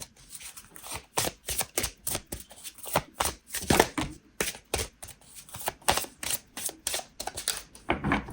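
Oracle cards shuffled by hand, a dense run of crisp riffling and slapping bursts going on steadily for about eight seconds, close and fairly loud, with no talking.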